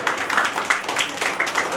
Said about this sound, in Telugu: సార్కి అందరూ ఒకసారి క్లాప్స్ కొట్టాలి.